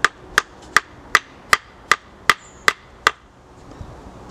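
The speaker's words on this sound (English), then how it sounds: "You don't need to really hammer it in." Sharp, evenly spaced knocks of a hammer or baton striking the back of a knife blade set into a wooden peg to cut a notch for carving, nine crisp close blows at a steady rhythm, then stopping, with no talk.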